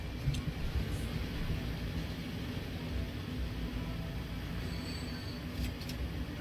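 In the Transport Fever game, a train slows at Gamboa station with a low, steady rolling rumble. Faint high wheel squeals and a brief brake whine appear near the end.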